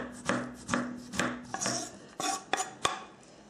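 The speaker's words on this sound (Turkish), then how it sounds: "şimdi domatesi de kendi halinde ince doğramaya çalışalım" A knife finely chops tomato on a cutting board, a string of crisp, close taps in an uneven rhythm with no talking.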